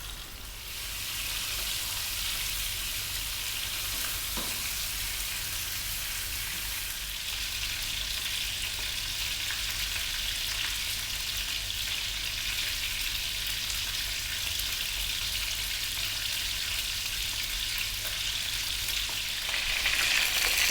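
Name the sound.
chicken pieces frying in oil in a pan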